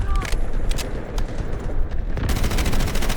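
Rapid gunfire in the Delta Force shooter game, with an MP5 among the weapons, bursting in dense, loud volleys that swell toward the end, with some voice activity mixed underneath.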